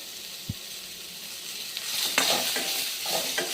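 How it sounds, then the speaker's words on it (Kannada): Onion and garlic fry in oil in a pan for a ridge gourd chutney, with a steady soft sizzle and a few clicks and scrapes of stirring that grow busier toward the end. "ಇದಕ್ಕೊಂದು ಸ್ವಲ್ಪ ಎಣ್ಣೆ ಹಾಕಿ ಹುರ್ಕೊಂಡ್ಬಿಡ್ರಿ"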